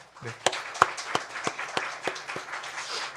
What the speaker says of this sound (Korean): 우리 그런 마음을 담아서 우리 박수 한번 또 할까요?